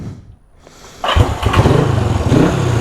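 A 1974 Honda CB360 motorcycle fires up after a brief quiet moment, then runs loud and close with a steady, throbbing idle and slight revs, carburetor freshly adjusted, with no talking.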